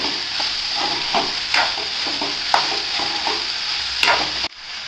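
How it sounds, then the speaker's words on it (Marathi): Garlic roasts in a pan alongside salted onion for a Konkani goda masala, giving a loud continuous sizzle with periodic scraping stirs and spoon knocks, ending abruptly. "लसूण टाकते भाजून घेते दोन मिनिटातून"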